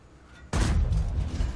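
A tank's main gun fires in a tank battle video game: one sudden, heavy boom after a quiet start, then a rumbling decay that lingers.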